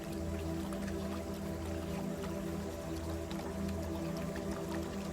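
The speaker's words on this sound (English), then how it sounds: "the gentle sound of the brook surrounds you" A babbling brook flows steadily in a calm natural setting, a constant, even wash of water with a faint low hum beneath it, with no talk.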